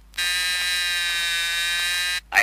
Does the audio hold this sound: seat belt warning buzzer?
yes